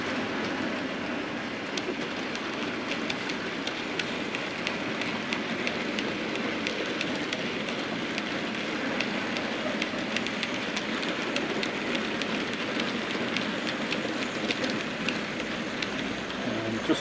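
A Class 7 general freight train rolls past on the line, a steady sustained rumble with faint wheel clatter running throughout at an even level, without talk.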